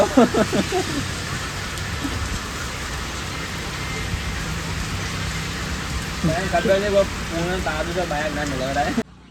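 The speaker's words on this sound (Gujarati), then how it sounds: "તો કાંઈ હજી વરસાદ તો ધીમો ધીમો ચાલુ છે" Steady light rain patters throughout, with a person talking briefly at the start and again near the end over the rain.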